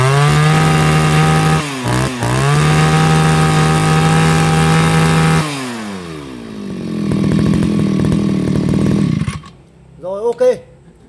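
A petrol brush cutter engine roars loud and close at a steady high pitch, dips briefly, then drops off and sputters as it winds down, with a short burst of voice near the end.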